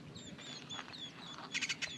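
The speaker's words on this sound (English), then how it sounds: "this area right here, the birds are going nuts" Birds call noisily among trees in a desert area, with thin high chirps and tweets scattered throughout and a denser burst of sharp calls near the end, all fairly distant over a soft outdoor background.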